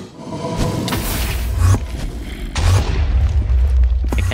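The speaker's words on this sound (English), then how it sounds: "Oh, he's shooting fireballs." Fireballs exploding in Minecraft, a run of loud close booms with deep rumbling tails, several blasts overlapping in quick succession.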